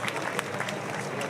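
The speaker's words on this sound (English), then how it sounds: "Give them a big cheer." A crowd at a sailors' parade and dock-out for the Volvo Ocean Race in Newport claps and cheers in a steady, dense wash of applause, moderately distant, with some voices mixed in.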